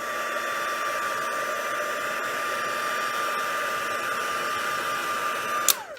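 A heat dryer blows a steady, loud whirring stream over ink on a silver foil sheet, held close and constant throughout with a high tonal whine, then cuts off abruptly with a click near the end; no one speaks.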